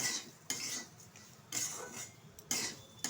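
A spoon stirs semolina mohonbhog in a pan, making a few distinct scraping strokes about a second apart over a faint sizzle, quiet and close.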